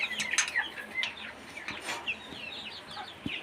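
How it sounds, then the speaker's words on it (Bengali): Broiler chickens on a poultry farm, a flock clucking and chirping close by in a steady, overlapping stream, with a few louder calls standing out over soft background noise. "পোলট্রির খামারে কিছু পোলট্রি আছে"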